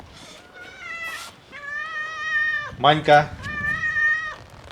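Pet cats meow repeatedly in a home kitchen, giving several drawn-out, close, clear meows with a brief caterwauling squabble in the middle while a man calls one of them by name.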